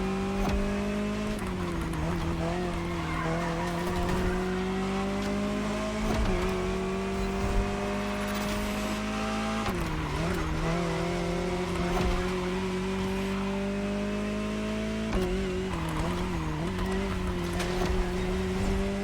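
A Jaguar CX-75 concept car from the video game The Crew Motorfest drives hard and close. Its engine climbs steadily through each gear, drops sharply at every shift, then rises again in a continuous loud drone with faint tire noise.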